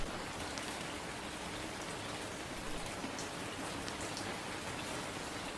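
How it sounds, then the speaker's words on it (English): Steady rain falling inside a room in a Cthulhu horror video game, a dense continuous patter and hiss with no break throughout. "we're in a rainy room right now"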